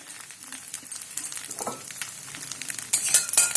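Food fries gently in oil in a pan, a soft steady sizzle broken by occasional stirring clinks, growing louder and brighter toward the end as more oil is added.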